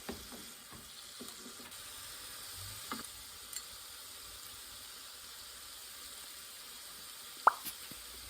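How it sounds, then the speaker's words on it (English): Shredded carrot and tuna cook with mentsuyu in a pan, a quiet, continuous soft sizzle with occasional light taps of stirring and one sharp clack near the end. "So please mix slowly the carrot and the tuna with mentsuyu."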